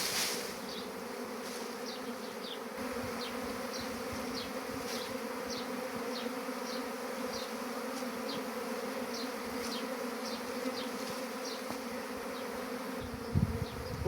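A honeybee swarm being caught by beekeepers hums as a continuous close buzz with layered droning tones, individual bees zipping past now and then, and a brief knock near the end.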